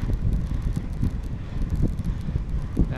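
Cool wind rushes past during a bicycle ride along hilly roads, a continuous low rumbling buffet of wind noise on the microphone, close and fairly loud with no talk.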